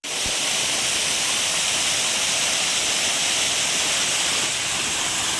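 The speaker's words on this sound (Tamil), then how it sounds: "ஃபைனலாக நடந்து வந்து ஃபால்ஸை கண்டுபிடிச்சிட்டோம்." A private waterfall near a resort pours in a steady, loud, unbroken rush of white noise, close by and with no voices over it.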